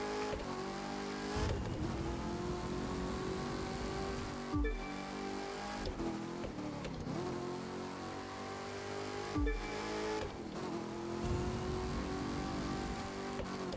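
Steady car engine drone from a vehicle driven in the racing video game The Crew 2, loud and continuous throughout, with brief shifts or revs at a few points and no talking.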